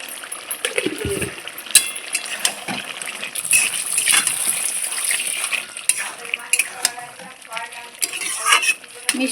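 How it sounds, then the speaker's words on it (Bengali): A jackfruit-seed vegetable curry is stirred in a pan, with repeated scraping strokes and a bubbling sizzle, plus a brief splash of liquid near the start. "মিষ্টি দিয়ে আবার খুব সুন্দর করে নেড়ে চেড়ে নিলাম"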